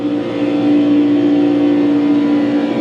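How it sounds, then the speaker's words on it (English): A race car in an oval race at Daytona, losing the draft and slowing mid-race, gives a loud, steady engine drone with a strong constant tone and a rushing wind roar that never lets up. "You can hear my car slowing down."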